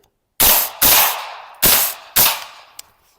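Four loud, sharp shots from a suppressed rifle fitted with a gas-blocking charging handle, fired in an uneven rhythm close by, each with a short ringing decay, followed by a faint click.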